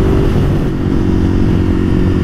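Ducati Monster 1200S fitted with slip-on exhausts revving inside a road tunnel, a loud, close, sustained engine roar with deep echoing rumble and no talk over it.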